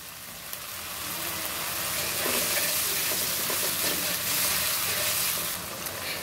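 Spice paste being fried in a pan for an egg and pointed gourd curry, a steady hissing sizzle that swells slightly and holds, close by and with no one speaking.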